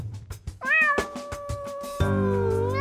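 A hungry cartoon cat in a children's animated story gives two clear, drawn-out meows, the second longer and louder, over a steady rhythmic backing beat.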